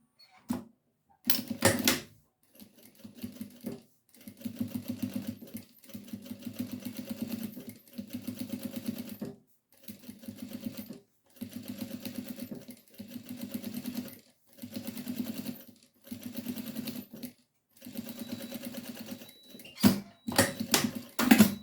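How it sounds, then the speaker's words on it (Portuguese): A sewing machine stitches a seam along the edge of broderie anglaise trim on a baby bib, running in about a dozen short, rapid whirring bursts separated by brief pauses, close and clear. "agora eu vou passar uma costura bem aqui na beiradinha desse bordado"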